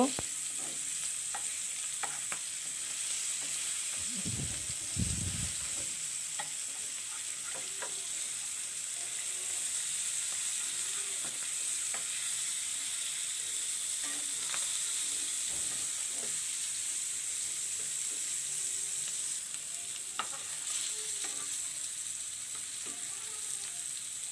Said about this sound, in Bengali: মাছগুলোর এক পিঠ ভাজা হয়ে গেছে, আমি উল্টিয়ে দিচ্ছি।